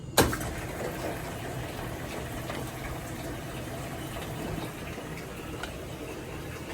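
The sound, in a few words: washing machine starting heavy hot wash, filling with water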